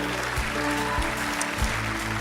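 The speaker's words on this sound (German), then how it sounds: "Applaus" A church congregation claps steadily over a low hum, with a few soft low thuds recurring in the background.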